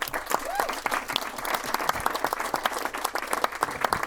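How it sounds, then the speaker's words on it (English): Wedding guests applaud the couple during the reception speeches, a steady crowd of clapping hands sustained for the whole stretch with a few sharper nearby claps and faint voices mixed in. "let's give them a round of applause"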